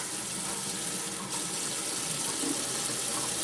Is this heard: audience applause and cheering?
no